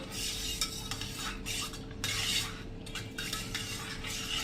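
A spoon stirs a spoonful of butter into milk in a pot to set curd, giving steady scraping and clinking strokes through a broadband hiss, close and moderately loud with no talking.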